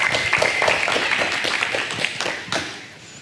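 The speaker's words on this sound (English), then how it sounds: "Everyone give a crowd of applause." A short burst of audience clapping at a youth talk on coaching and mentorship, close and moderately loud, fading toward the end.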